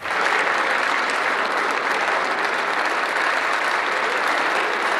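Sustained applause from a parliamentary assembly as a departing politician, VDB, bids farewell in 1985, a dense, steady wash of many hands clapping throughout without pause.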